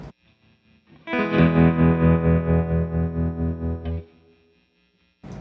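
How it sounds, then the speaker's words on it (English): A distorted, overdriven electric guitar chord through a One Control BJF-S66 amp with no pedal rings out loudly, pulsing with a wavering tremolo before fading, with quiet picking before and after. "no mic and tremolo with overdriven sound"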